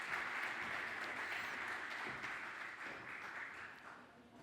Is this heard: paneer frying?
no